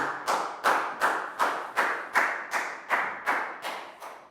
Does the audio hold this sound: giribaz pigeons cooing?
no